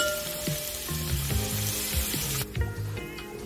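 Sliced onion frying in oil crackles and hisses evenly, with soft melodic tones running underneath. The sizzle drops away sharply near the end.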